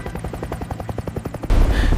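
Indian Air Force Mi-35 attack helicopters, a loud rhythmic rotor thumping in quick regular pulses that gives way to a heavy roaring rush.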